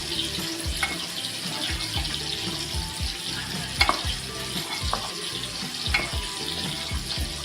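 Tomato gravy for a fish curry cooking in a pan, a low bubbling sizzle under frequent soft knocks and clinks of a utensil, with a brief louder scrape midway and no speech.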